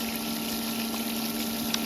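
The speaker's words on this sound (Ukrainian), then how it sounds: "Ми вмикаємо наш фільтр і дивимось на колір води." Swimming pool sand filter pump running on backwash, a steady loud mechanical hum with constant rushing water flow, unbroken throughout with a faint click near the end.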